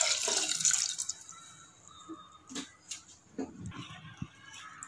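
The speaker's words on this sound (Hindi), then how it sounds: "इसमें मैंने थोड़ा पानी डाला है" Water pours into soaked rice and lentils for khichdi, starting as a strong splashy gush that tapers off into intermittent drips and small clinks.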